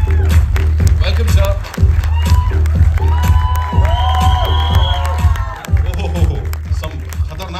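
A crowd at the IB71 trailer launch event cheers and claps loudly in dense bursts, with whoops and shouts, while a host's voice speaks briefly over the noise.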